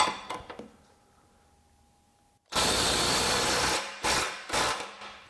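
A cordless power tool on a full battery, set to speed 3, loosens a fastener. A few sharp knocks come first, then a loud, close impact burst runs for about a second and a half, followed by two shorter hammering bursts.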